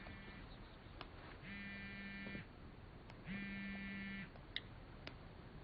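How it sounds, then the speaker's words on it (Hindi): A mobile phone buzzes in two long electronic pulses about a second apart, a reedy humming ring heard close by in an otherwise quiet room. "मेरा फोन बजा।"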